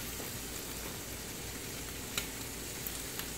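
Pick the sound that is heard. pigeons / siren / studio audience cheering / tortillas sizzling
tortillas sizzling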